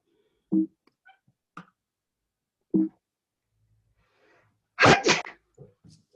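A loud, sharp sneeze bursts out near the microphone, preceded by a few small sniffs and clicks in a quiet room.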